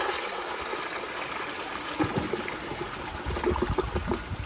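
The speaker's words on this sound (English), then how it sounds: "So here is another flush." A 2020 Seasons kindergarten toilet with an overfilled tank flushes in a steady rushing gush of water that continues throughout, with gurgling swirls growing near the end; no voices.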